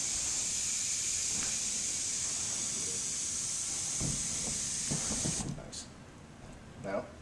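A can of fabric spray paint sprays continuously onto patio furniture, a steady close hiss for about five seconds that then stops, followed by a few faint handling knocks.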